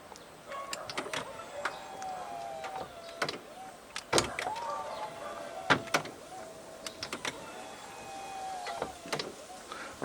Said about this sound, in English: we'll just open and close the roof real quick just to show that it works